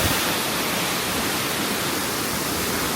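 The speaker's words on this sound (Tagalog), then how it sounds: "waterfall" Broad, steady rushing roar of a waterfall reached after a hike, loud and continuous with no gaps, filling the whole span without any voices.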